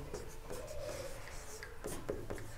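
Pen or chalk scratching out a quadratic equation during a maths lesson, a soft continuous rubbing stroke with brief taps, close and fairly quiet, no talking.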